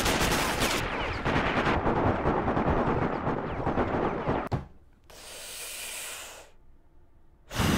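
Rapid hip-fire gunshots from a weapon in Sniper: Ghost Warrior, a dense loud burst of shots for about four seconds, then a sharp crack and quieter hissing noise afterward.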